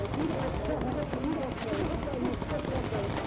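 .50 calibre machine gun on a bomber in the game Bomber Crew, a rapid, evenly spaced stream of loud, sharp shots firing in one sustained burst with no pauses.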